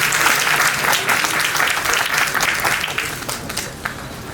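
Audience applause at an awards ceremony with medal and plaque presentations, a dense, steady clapping from a sizable crowd that stays loud for several seconds, then thins slightly toward the end.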